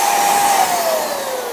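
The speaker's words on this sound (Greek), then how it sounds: "Αυτή λοιπόν εδώ η σκούπα," A powerful handheld vacuum cleaner runs steadily and loud and close, a continuous motor whine with a slightly falling tone and no voices over it.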